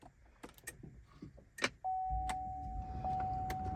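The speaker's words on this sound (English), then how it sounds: "First, I'm going to turn the car on." A car being started for a dashcam setup: faint clicks and a key or button press, then a steady engine hum with a thin electronic tone settling in, no voices.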